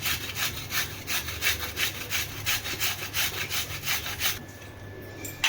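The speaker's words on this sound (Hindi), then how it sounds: "तो ये केला हमने घिस लिया है" A raw banana is rubbed hard against a grater in steady, rhythmic back-and-forth strokes, close and loud, stopping near the end.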